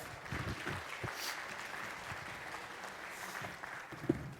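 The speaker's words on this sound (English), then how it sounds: "Would you give Kirsten a round of applause," Church congregation applauding in a hall, moderate steady clapping spread across the room, fairly soft and continuous with a few sharper claps near the end.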